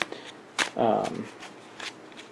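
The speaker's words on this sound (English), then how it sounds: "shuffle the deck again" A deck of game cards is riffled briefly at a tabletop board game, one quick burst of shuffling with a voice speaking around it.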